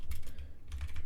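Rapid typing on a computer keyboard while entering router configuration commands, a steady run of close, crisp key clicks with a brief lull midway, no voice.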